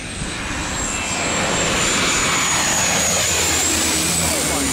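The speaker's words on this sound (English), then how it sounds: "and this is how planes approach it." A plane coming in to land at St. Barthélemy airport, its engine roar loud and steady, building slightly as it draws nearer, with faint voices underneath.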